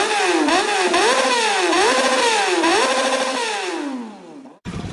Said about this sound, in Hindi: बाबा ने अपनी नई बाइक स्टार्ट की।